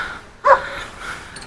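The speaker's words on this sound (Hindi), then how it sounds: "इनका कुत्ता बहुत भौंक रहा है" A dog near a jungle gurudwara gives a single sharp bark at a stranger, close and loud against a quiet background.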